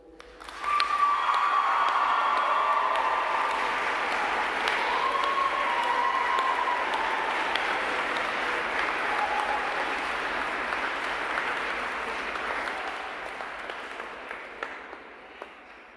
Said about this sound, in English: they too deserve a round of applause